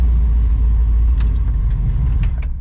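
A 1955 Chevy gasser with a big-block engine and dual-quad tunnel ram rumbles loudly and steadily as it backs up, its deep idle close and continuous.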